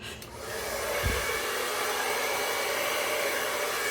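A hair dryer blows steadily across poured acrylic paint in a split puddle Dutch pour, a continuous close, loud rushing airflow with a brief low thump near the start and no talk.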